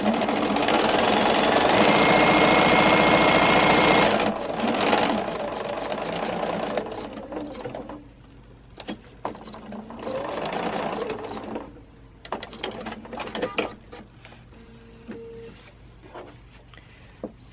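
Sewing machine stitching quilt pieces for a kaleidoscope triangles block, a loud continuous whirring run for about four seconds, then shorter bursts of stitching separated by pauses and handling noises.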